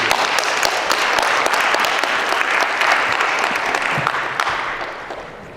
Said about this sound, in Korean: 박수로 크게.